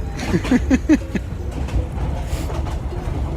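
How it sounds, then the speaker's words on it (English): A long-distance passenger train rolls steadily through Myanmar, with a low continuous rumble and a few rhythmic clickety-clack beats near the start, heard from inside a carriage with faint voices in the background. "we're 14 hours in to our train ride"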